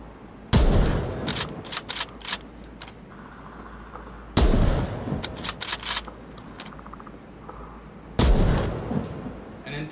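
Three loud, close bolt-action rifle shots from a MARSOC weapon in the Onward VR game, a few seconds apart, each followed by quieter metallic clicks and clacks of reloading and working the bolt.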